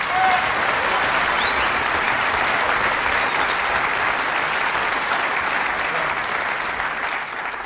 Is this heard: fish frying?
no